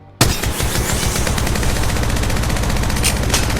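Sustained rapid automatic gunfire from a weapon in the mobile battle royale game Apex Legends Mobile, a loud continuous burst of rattling shots that starts abruptly and keeps firing steadily without pause.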